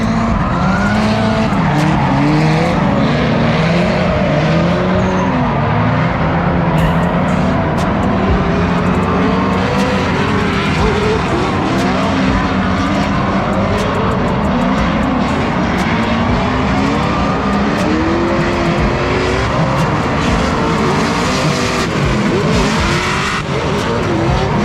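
A Mustang drift car at a drift event roars continuously under heavy throttle, its engine pitch rising and falling with tire squeal and skidding mixed in, loud and sustained throughout.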